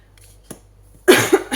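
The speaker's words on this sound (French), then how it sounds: "C'est fou que ça me fait tousser ça" A person coughs in a short, loud double burst, reacting to smoke from burning incense nearby, after a faint click and a quiet pause.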